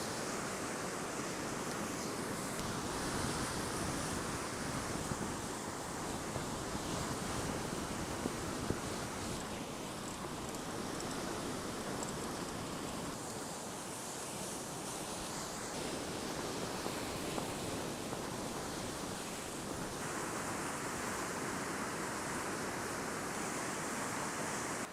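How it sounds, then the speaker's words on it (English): Ocean surf washes steadily onto the shore behind a coastal campsite, a constant broad hiss of breaking waves with faint wind and no voices. "And there's some ocean behind me."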